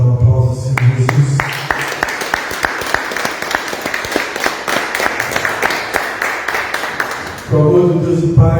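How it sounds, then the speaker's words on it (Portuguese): A church congregation applauds in a dense, sustained burst of many hands clapping, loud and full, with music or singing heard before and after the applause. "Você pode dar um aplauso ao Senhor Jesus?"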